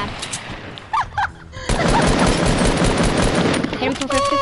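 In a shooter video game, a heavy assault rifle opens up in a loud, continuous automatic burst after a few short clicks and game effects, with the rattling fire filling the rest of the moment.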